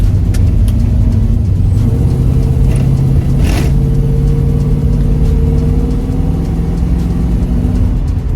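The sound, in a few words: 1972 AMC Javelin SST 360 V8 accelerating under part throttle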